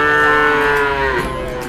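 A cow at the Wirosari cattle market in Purwodadi gives one loud, close moo that holds steady and then drops in pitch toward its end. No one speaks during it.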